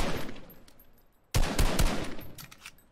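Fortnite gunfire rattles in rapid bursts, starting faint and distant, then jumping to a loud, close volley of shots after a brief lull, with no talking.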